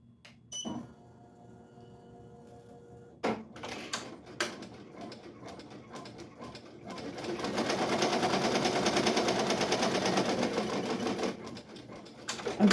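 Embroidery machine set to 550 stitches per minute stitching a 3D puff split design on a shirt, starting with a few clicks and knocks, then settling into a steady, loud, rapid mechanical whirr that runs for several seconds, close up, with no talk.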